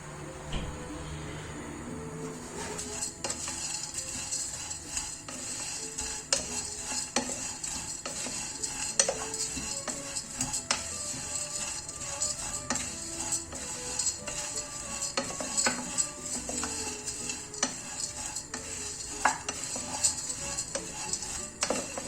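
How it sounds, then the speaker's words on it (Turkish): Erişte noodles are stirred and toasted in a pan, a spatula scraping and clicking against the metal in a steady irregular rhythm over a soft sizzle, fairly quiet with no talking. "rengi değişene kadar eriştelerimizi çeviriyoruz tavamızda"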